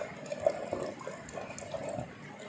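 Acetic acid vinegar pours and trickles into a container, a faint close splashing that rises and falls in small gurgles for a couple of seconds.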